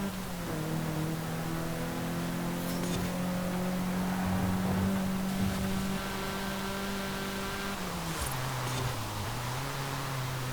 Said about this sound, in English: I have enjoyed driving this Renault again